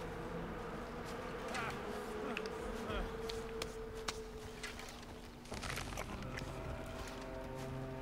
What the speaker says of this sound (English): give them a minute, and the bees will clear out, and then you can run up and get the honey